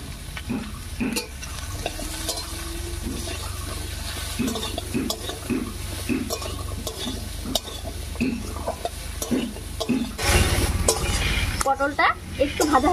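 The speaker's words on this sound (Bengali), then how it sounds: "পটলটা একটু ভাজা হতে থাক" Pointed gourd (parwal) sizzles in hot oil in a pan with salt and turmeric, stirred with repeated scraping strokes, a steady frying hiss running underneath while a voice talks over it.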